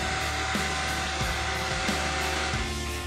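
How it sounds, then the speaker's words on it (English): A shop vacuum fitted with a cup and straw attachment runs steadily with a loud, continuous whooshing roar and faint rhythmic pulses, close and alone without speech. "turn on your vacuum, and now you can get into tight spaces real easy"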